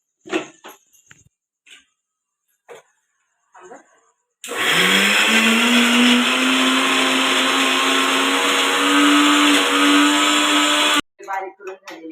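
A mixer-grinder roars for about six seconds as it grinds poha for idli batter, steady and loud with its pitch rising as it spins up, framed by brief clattering and handling sounds before and after.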